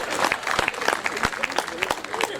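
An audience at a Hindi poetry recital in Khariar Road, Odisha, breaks into brisk, scattered clapping that lasts a couple of seconds, fairly close, mixed with a voice.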